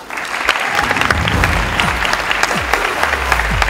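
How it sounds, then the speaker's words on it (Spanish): An awards ceremony audience at PortAventura claps loudly and continuously, a dense, close applause that holds steady throughout. "Y quiero que den un fuerte aplauso"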